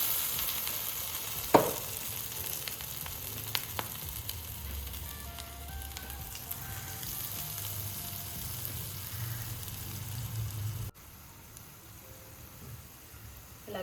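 Urad dal vada batter, shaped with a hole in the middle, sizzles steadily in hot oil, with a soft crackling hiss running throughout and a sharper pop near the start before the sound quiets slightly toward the end.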